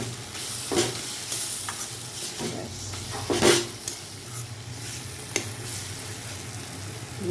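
Whole spices sizzle and fry in hot oil while gourd and mung dal are being cooked, a steady close crackle with occasional stirring scrapes and clinks.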